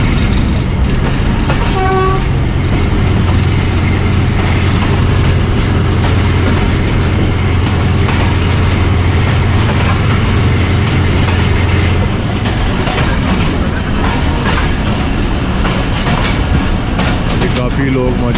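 The Thal Express passenger train rolls steadily along the rails with continuous loud rumble and wheel clatter, a sustained horn tone sounding for several seconds early on, and a voice talking over the noise.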